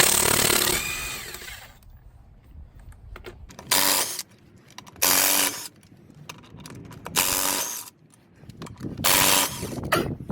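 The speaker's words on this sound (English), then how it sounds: "now we're going to loosen these lug nuts." Bursts of a power tool, likely an impact wrench, loosening lug nuts on a wheel stuck for ten years, whir loudly several times in short spurts, separated by quieter gaps with faint clanking.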